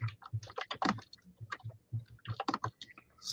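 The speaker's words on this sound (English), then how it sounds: "Some serious typing going on there." Rapid clicking of keys on a computer keyboard, typed in quick irregular bursts close to the microphone with no talking.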